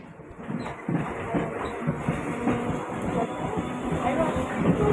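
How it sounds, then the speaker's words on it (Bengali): A train halted at Bhubaneswar railway station, a steady low rumble with faint clattering and a rising hum, blended with indistinct background chatter. "এখন ভুবনেশ্বর স্টেশনে তো এখানে কিছুক্ষণের জন্য ট্রেন দাঁড়ায়"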